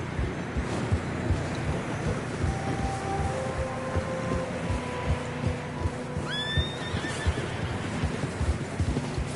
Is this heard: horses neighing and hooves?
yes